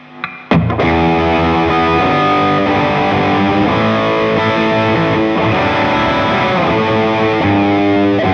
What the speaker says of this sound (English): this is the Klonos with all the settings at noon